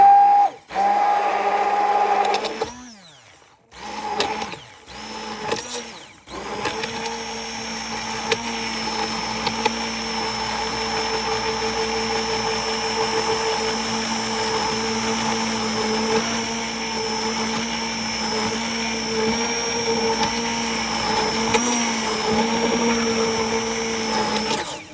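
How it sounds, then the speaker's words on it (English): A handheld immersion blender whirring as it mixes water and oil into a creamy homemade shampoo, with a few short starts at first and then a steady loud motor drone. "Now I'm gonna use my immersion blender to make sure that water and the oil blend well"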